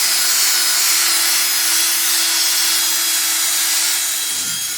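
Mother's Nu Lens polish being rubbed onto a car headlight makes a loud, steady, continuous abrasive hiss that runs unbroken for several seconds, then eases off briefly at the end, with no talking.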